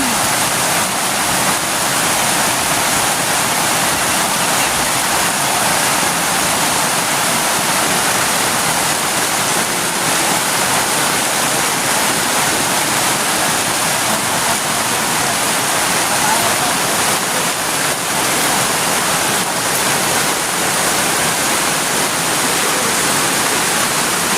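Constant loud rush of flowing water, a dense unbroken hiss like a waterfall or fast stream, steady throughout.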